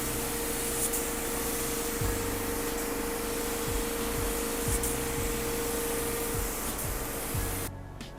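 A spray gun lays paint and clear coat onto a car in a steady, loud hiss of continuous spraying that runs unbroken for several seconds, with a low compressor hum and faint knocks beneath, then cuts off abruptly near the end.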